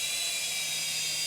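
A Syma S107 toy RC helicopter hovers close by, giving a steady, high-pitched electric whine from its small motor and rotor that runs unbroken with no talk.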